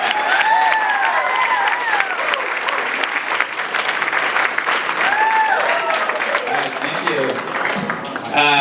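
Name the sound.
audience applause for a stand-up comedian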